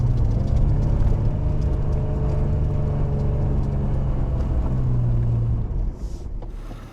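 A vehicle's wheels strain against a hard crust of snow beneath softer snow while hauling a heavy vintage trailer, giving a loud, continuous engine rumble and whir that holds steady, then drops off near the end.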